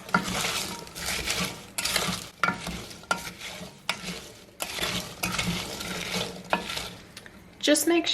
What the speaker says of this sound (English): Squish our cranberries with the back of the spoon